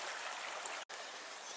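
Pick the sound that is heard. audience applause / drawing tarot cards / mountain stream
mountain stream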